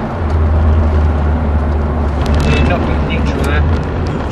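A Ferrari accelerating hard on the Silverstone circuit and shifting up through the gears: a loud, continuous engine drone up close, with a voice talking over it.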